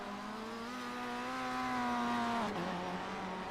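A race car engine from a touring car championship racing game drones in a sustained rising tone, then drops pitch sharply as it shifts or passes, heard fairly close and alone.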